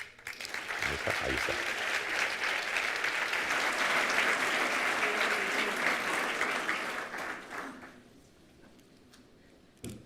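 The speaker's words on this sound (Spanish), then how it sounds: "les pido un fuerte aplauso para el jurista Eugenio Nassarre" Sustained applause from a seated audience at a cultural presentation event greets a jurist, strong and steady for about seven seconds before fading out, with a brief spoken remark near the start.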